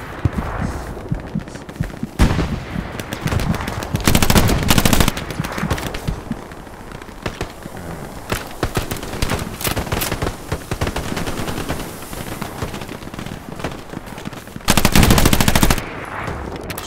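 A Thompson submachine gun in the video game Hell Let Loose fires continuous rapid bursts throughout a noisy battlefield, with the loudest full-auto stretches near the start and again toward the end.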